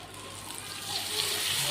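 Lemon juice is poured into a hot pulihora tempering of curry leaves and turmeric, giving a brief, steady hissing splash that swells slightly toward the end.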